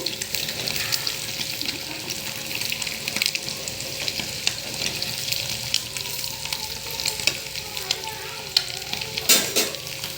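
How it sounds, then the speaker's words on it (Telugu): Eggs fry in oil seasoned with chili powder, salt and turmeric, giving a steady close sizzle with crackling bursts and occasional stirring scrapes throughout. "ఇదండి ఎగ్స్ చక్కగా కారం ఉప్పు పసుపు వేసినాము వేగిపోయినాయి చూడండి చక్కగా ఇలా వేయించుకోవాలి ఎగ్స్ని"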